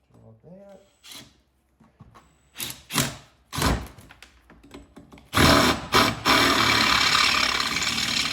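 A few short spoken phrases with some clicks, then a power drill starts up and runs steadily and loudly, grinding through a golf cart's metal frame until the end.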